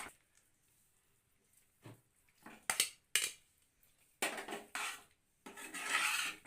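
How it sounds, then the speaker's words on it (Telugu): Cooked pasta gets mixed into red sauce with oregano and chilli flakes in a pan, giving scattered scraping and clinking strokes of a utensil against the pan, quiet at first and then in louder bursts. "ఇప్పుడు మనం ముందుగానే కుక్ చేసుకున్న పాస్తాని దీంట్లో మిక్స్ చేసుకోవాలి"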